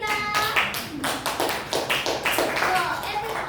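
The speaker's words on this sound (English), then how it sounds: "Give applause to Ika." Scattered classroom clapping for a student, dense and continuous for a few seconds, with children's voices mixed faintly underneath.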